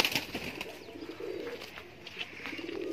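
A female Teddy pigeon, a desi high-flyer breed, coos softly and repeatedly in low throaty rolls, close by, with faint background noise.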